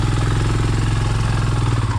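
An off-road enduro motorcycle on a Kerala mountain top roars loudly and continuously, its engine held at a steady high rev with a rough, pulsing throb, close and alone without talk.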